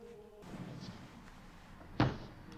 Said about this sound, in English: that was for knocking on the door